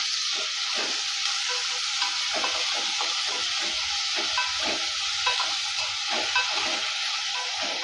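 Onions and tomatoes with salt sauté in a pan for a fish curry, giving a steady close sizzle and hiss with repeated scraping stirs of a spoon throughout.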